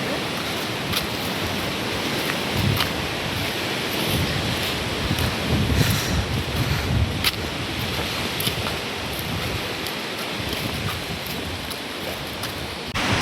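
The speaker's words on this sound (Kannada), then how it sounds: "ಇಲ್ಲಿ ಅಂತೂ ಜೋರು ಗಾಳಿ ಬೀಸ್ತಿದೆ, ಬಟ್ ನಮಗೆ ನಿಲ್ಲಕ್ಕಾಗ್ತಿಲ್ಲ, ನಮ್ಮನ್ನೇ ದೂಗ್ತಿದೆ ಗಾಳಿ." Strong wind buffets the microphone at a roadside viewpoint, a steady loud roar with gusts rising around the middle and no voices heard.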